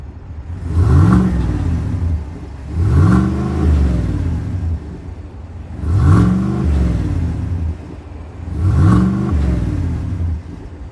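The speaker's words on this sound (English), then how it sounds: "we have that performance catback quad tip exhaust. So let's see how this baby sounds." 2024 Chevrolet Tahoe RST with 6.2-liter V8 and performance catback quad-tip exhaust revved four times in evenly spaced blips, each swelling and dropping back to a rumbling idle, close and prominent.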